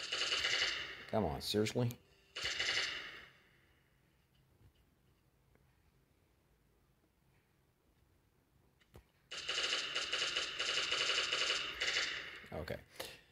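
Bursts of rapid automatic gunfire from the Last Day on Earth video game, one burst at the start and a longer run later with a quiet gap between, plus a voice speaking briefly.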